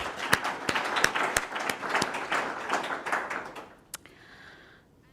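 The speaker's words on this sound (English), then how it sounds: "let's welcome them and give them the round of applause for this fantastic job" An audience applauds for a few seconds, the clapping fading out toward the end.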